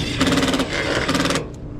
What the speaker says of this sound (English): All right, the blower's running.